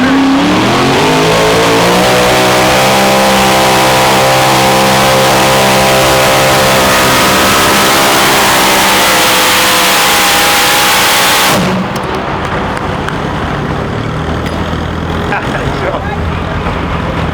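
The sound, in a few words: pulling tractor engine revving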